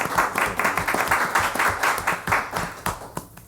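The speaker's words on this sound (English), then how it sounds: "So can we all get a round of applause" A small audience claps a round of applause for a guest on a casual talk show, with distinct uneven claps that thin out and trail off toward the end.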